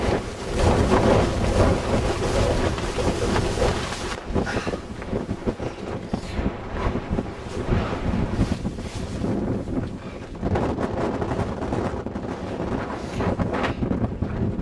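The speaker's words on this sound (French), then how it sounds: "Il y a un vent de fou!" Strong wind buffets the microphone high on Aconcagua mountain, a loud continuous roaring gust that surges and eases in waves across the whole stretch, with no voices.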